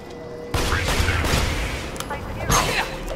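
Sharp bursts of gunfire in the video game Borderlands 2 crack through a noisy background, with a couple of heavier shots near the start and again later.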